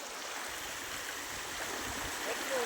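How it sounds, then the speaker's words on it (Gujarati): Rainwater flowing across a farm path during the monsoon, a quiet, steady babble of shallow running water with faint low rumbles underneath, heard without speech. "પાણી જાય છે, કેટલું તાણ દઈએ એ જોઈએ હવે આપણે"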